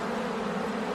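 Honey bees buzz in a dense, steady drone during a week-ten beehive inspection, with the frames stuck to the bottom. The hum is close and continuous, and nobody speaks.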